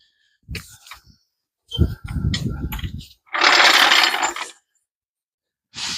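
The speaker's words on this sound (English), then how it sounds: "Once I got them tightened down, I'll let the jack down." A car jack being lowered after wheel lug nuts were tightened during a wheel bearing repack gives off brief mechanical clicks and clunks, then a sustained hissing release for about a second, all close and loud with no talk.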